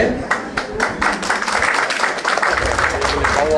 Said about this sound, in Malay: Tepuk tangan setuju betul.